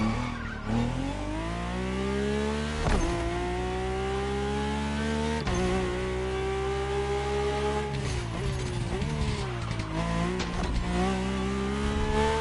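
The Mercedes-AMG One's engine howls in Motorfest, loud and close, rising and falling through repeated revs and gear shifts with sustained high-pitched whine across the whole stretch.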